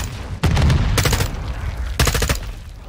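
Gunfire from Call of Duty Modern Warfare 2 comes in three sharp bursts of rapid shots, loud and close. Quieter game ambience fills the gaps between the volleys.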